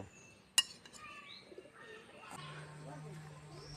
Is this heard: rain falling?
no